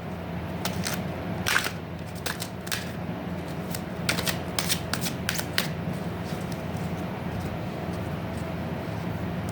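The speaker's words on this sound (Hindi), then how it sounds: "एक लास्ट शफल लेती हूँ" Tarot cards riffled and shuffled close by, a run of quick, crisp flutters and clacks in bursts that fade into faint background hiss, with no talking.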